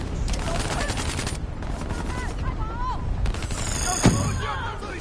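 Video game gunfire in story mode, rapid bursts of automatic shots with dense crackling volleys, a sharp loud blast near the end, whizzing tonal sweeps mixed in, close and continuous.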